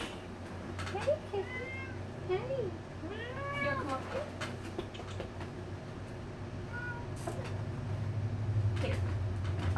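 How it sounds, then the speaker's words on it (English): A pet cat meows repeatedly up close, several rising and falling calls in the first half, with people talking nearby and a low background hum building toward the end. "Hey, Kitty."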